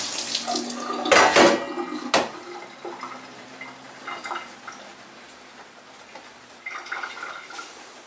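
Water drains from a cooking pot of beans into a sink in a kitchen, a loud splashing pour for about a second followed by a sharp clank, then scattered faint drips and small knocks.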